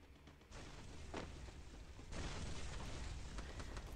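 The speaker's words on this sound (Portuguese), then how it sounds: "Tô escutando tiro." Heavy gunfire in the battle royale game Free Fire during a live Piauí championship broadcast, a loud dense barrage that steps up partway through and keeps roaring without pause.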